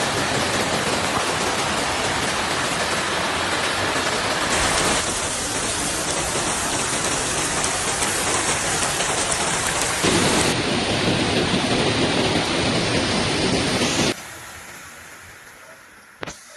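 Heavy rain pours steadily during floods in Terres de l'Ebre, Catalonia, a dense continuous roar with thunder rumbling beneath it, loud and close throughout before dropping sharply to a quieter wash near the end.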